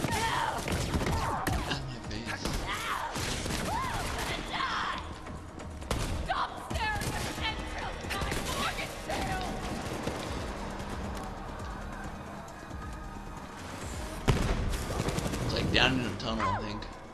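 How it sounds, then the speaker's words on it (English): Gunfire in the video game Borderlands 3, with dense bursts of shots and crashes layered over a busy battle mix, steady and loud throughout, with a sharp burst near the end. "Totally just getting shot at right now."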